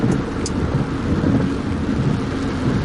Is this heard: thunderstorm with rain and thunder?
yes